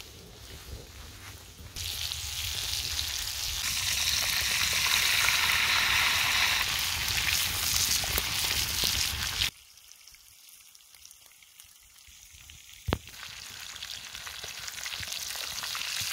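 A breaded Viennese schnitzel frying in hot oil in a pan, a loud steady sizzle close up that swells, then drops off abruptly partway through before the hiss returns more softly after a brief clatter.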